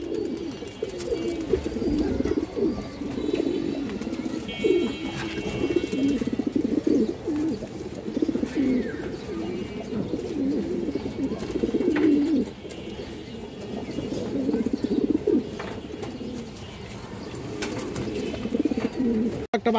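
Cooing of pigeons including a Baga hen, a full-sized line-bred bird, repeating steadily in low throaty rolls that continue throughout, with faint background noise and no talk.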